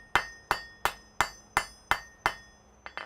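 Hot metal is struck with a hammer on an anvil in a smithy, eight sharp ringing blows in an even rhythm, close and loud, each leaving a bright metallic ring, followed by a couple of lighter taps.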